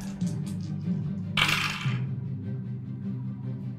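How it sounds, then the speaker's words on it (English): Dice rolled onto a table during a tabletop role-playing game session, a single short clattering tumble that settles quickly, heard over a steady low room hum with no talk. "And next would be she's going to roll her defense."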